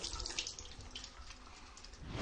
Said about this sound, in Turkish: Ellerimizi su ve sabunla 20 saniye yıkıyoruz.